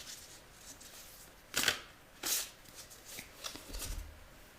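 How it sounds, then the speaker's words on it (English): A deck of playing cards being shuffled, with two sharp riffling bursts near each other followed by softer scattered card flicks and light handling noises, close and quiet, with no talking. "We'll shuffle them first."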